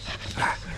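A pet dog in a backyard lets out a single short, yippy bark close by, brief and fairly soft.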